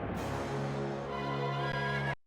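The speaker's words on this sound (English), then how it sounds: "he's on top of a black horse." Ganon's black horse in The Legend of Zelda: Twilight Princess gives a sustained neigh lasting about two seconds, loud and close, with no talk over it.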